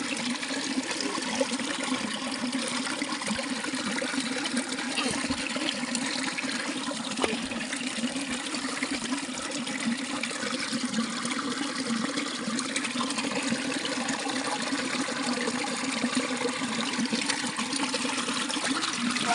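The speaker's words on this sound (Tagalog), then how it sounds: "maliit na waterfalls guys" A small mountain waterfall in the countryside pours steadily, producing a constant, full rush of falling water, close and unbroken from start to finish, with no voices.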